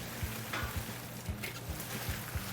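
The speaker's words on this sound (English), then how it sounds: "I'll just start stirring it up" White chocolate is stirred in a bucket set over a low-flame double boiler, giving a soft, rhythmic scraping and swishing with regular strokes and a faint steady sizzle underneath.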